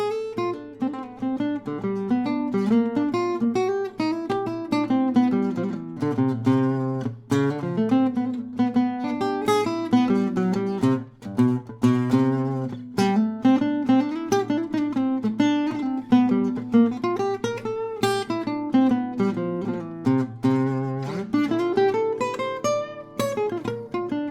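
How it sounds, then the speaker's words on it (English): Gypsy jazz guitar plays fast arpeggios of dominant chords over a II V I progression, a continuous stream of crisp picked notes rising and falling, solo and close with no talk. "these four dominant chords can be arpeggiated to create the sound of the scale"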